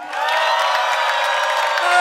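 Concert crowd at a live hip-hop show screaming and applauding for the performers, a dense, loud, steady roar of cheers and whoops that holds for about two seconds and swells slightly at the end.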